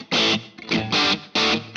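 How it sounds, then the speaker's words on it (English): Distorted electric guitar, run through a short room-like reverb, plays three loud sustained chords or phrases with brief gaps between them, close and alone. "And then I'll turn that off so we can hear what I'm doing with the reverb."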